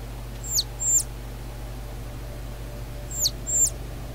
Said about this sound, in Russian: Так, у нас голубь тут.